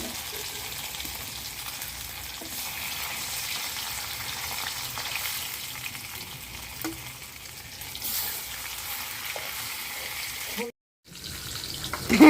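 Food sizzles steadily in a hot pan, a continuous crackling hiss that briefly cuts out near the end before returning.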